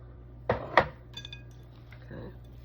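Chunky crab salad with chopped spinach, half a red pepper and baby cucumbers being mixed in a bowl, giving two sharp utensil clinks against the dish, then softer scraping stirs, with faint talk in the background.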